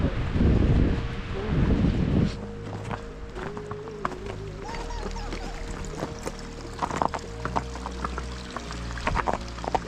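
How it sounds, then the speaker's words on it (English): A mountain creek in Rocky Mountain National Park pours and splashes loudly for the first two seconds, then settles into a quieter, continuous flow with a faint whine over it. "So this is the creek that comes out of it."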